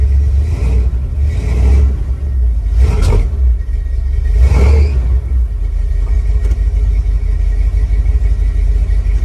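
Abandoned 1979 or 1985 Ford F-250 pickup truck with its engine rumbling loudly up close as it moves slowly, giving a few revving surges over a steady low growl, with no voices.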